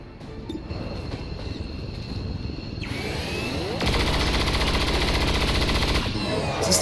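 Rapid machine-gun fire from the video game XCOM 2 erupts after a short whoosh and runs as a dense, loud, continuous burst of shots for about two seconds before cutting off abruptly.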